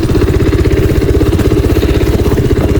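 A newly bought motorcycle idles close by after a dusty ride, its engine putting out a loud, steady, rapid pulsing throb with a faint mechanical clatter and no talk over it.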